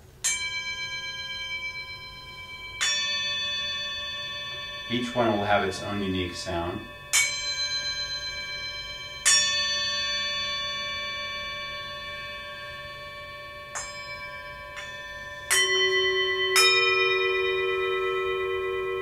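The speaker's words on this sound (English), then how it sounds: "this is a much thinner 6-inch singing bowl" A thin six-inch metal singing bowl is struck several times, each strike ringing bright and long before fading, with a person speaking briefly between strikes.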